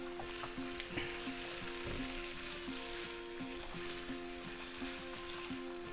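Garlic stir-frying in a pan with shrimp and seafood for fried rice, a steady close sizzle with repeated soft scrapes and knocks of a stirring utensil throughout.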